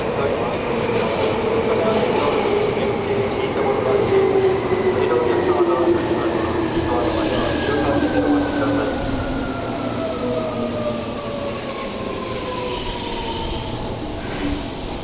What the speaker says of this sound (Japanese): まもなく2番ホームに準急新所沢行きが10両編成で参ります。